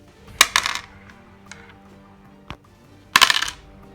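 Dice rattle onto a tabletop wargame board in two sharp clattering bursts, with a couple of small clicks between them, close and loud against a quiet room.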